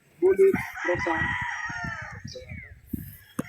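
A Pure Boston stag rooster gives one loud, close crow with a drawn-out call, followed by faint clucking and someone talking briefly.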